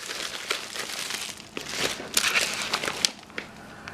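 Diamond painting kit packaging being opened up close, with steady plastic crinkling and rustling in bursts, a few sharper crackles standing out over about four seconds, no talking.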